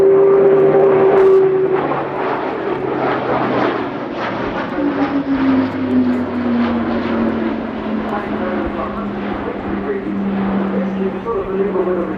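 An Airbus A400M Atlas military transport aircraft at an air show flight display roars loudly and continuously with steady propeller engine drone, pitch sliding downward as it passes; commentary voice runs over it.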